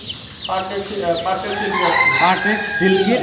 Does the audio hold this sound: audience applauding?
no